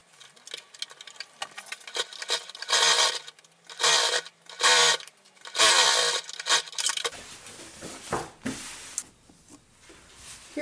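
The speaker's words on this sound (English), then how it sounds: "I'll stitch down a few, back stitch, and then continue stitching down" Home sewing machine stitching a dart on a cardigan blazer, starting with a few stitches, then backstitching and carrying on. Close whirring bursts of stitching alternate with short pauses and quick clicks.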